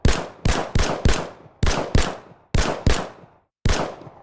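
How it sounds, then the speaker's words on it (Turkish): A level 1 TX-02 submachine gun in Glory Frontline fires nine sharp, punchy single shots in a loose, uneven rhythm, each ending in a quick decaying tail, with a short gap near the end. "TX-02 hafif makineli tüfek seviye 1 ses efekti"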